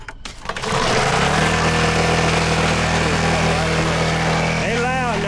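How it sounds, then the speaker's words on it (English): A big old dirt bike engine starts up and settles into a loud, steady idle that holds the rest of the way, with a voice calling out near the end. "I'm gonna crank these big old engine up for them."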